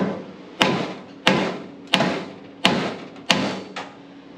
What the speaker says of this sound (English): I'm just gonna hit it with a hammer a couple times.